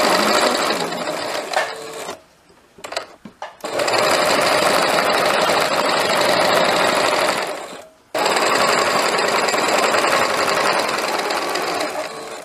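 A sewing machine stitches a blouse seam in loud, close bursts, running steadily for several seconds, pausing briefly twice, then resuming its rapid needle clatter.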